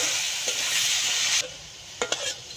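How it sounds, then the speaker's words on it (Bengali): Potatoes and carrots sizzle loudly in hot mustard oil with a steady hiss. Partway through, the sizzle quiets sharply, and two quick utensil clinks follow near the end. "এবার প্রথমেই আমি আলু আর গাজরগুলো ভেজে নেব।"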